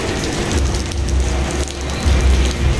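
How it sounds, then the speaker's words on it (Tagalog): Rain falling on Calle Crisologo in Vigan, Ilocos Sur, a steady broadband hiss of rainfall with low rumbling underneath, continuous and fairly loud throughout. "Umuulan dito sa Vegan."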